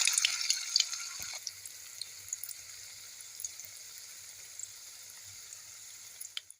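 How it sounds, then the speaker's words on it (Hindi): Cubed paneer fries in hot oil, giving a bright crackling sizzle that starts loud with scattered pops and settles into a steady, softer hiss before a brief swell at the end; no one speaks. "अब इस गर्म तेल में हम जो पनीर काट के रखे हैं वो पनीर इसमें डाल देंगे।"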